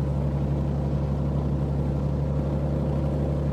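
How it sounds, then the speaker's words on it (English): A de Havilland Mosquito aircraft engine runs steadily just after start-up, a loud, continuous, deep droning rumble with no voices over it. "As soon as the engine is running satisfactorily, release the booster coil button"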